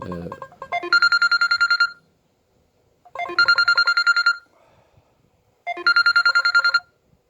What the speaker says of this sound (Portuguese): A minha filha acabou de ligar, tá certo?